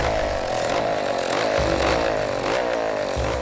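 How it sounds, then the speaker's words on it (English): A chainsaw roars continuously in a rainforest, its engine pitch rising and dipping as it cuts, loud and close with no voices. "the certain death that comes with the roar of the chainsaw"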